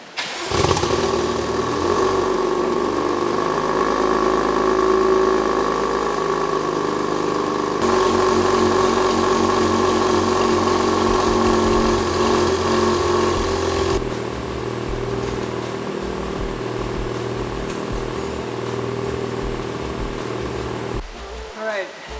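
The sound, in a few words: BMW F82 M4 engine cold start idling with Remus exhaust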